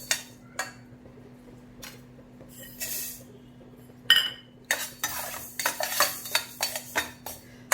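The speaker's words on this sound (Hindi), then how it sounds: "हम सब सिंगल सिंगल ही भुनेंगे, क्योंकि सबका साइज अलग अलग रहता है, तो कम ज़्यादा समय लेते हैं रोस्ट होने में" Sambhar masala spices are dry-roasted in a pan with a utensil, giving bursts of scraping and rattling stirring and light metallic clinks, separated by quiet gaps that grow busier and more rhythmic toward the end.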